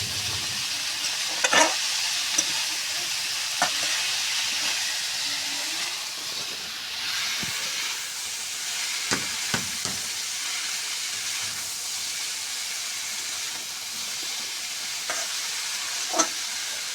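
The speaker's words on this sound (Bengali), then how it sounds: "এবার সুন্দর করে কষে নিব।" Taro stolons stir-fry in oil with dried shrimp for a rustic village-style curry, giving a steady soft sizzle broken by occasional sharp clinks and scrapes of a spatula against the pan.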